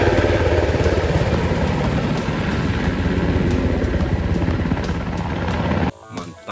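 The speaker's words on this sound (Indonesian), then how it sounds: "Helikopter." A toy helicopter gives off a continuous loud whirring, rotor-like buzz with a fast regular pulse, cutting off abruptly near the end.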